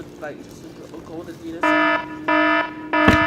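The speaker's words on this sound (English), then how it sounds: "Sorry, that was just a fire alarm because that was too much heat." A fire alarm goes off indoors with three loud, harsh electronic beeps, each lasting about a third of a second, after a stretch of someone talking at the start.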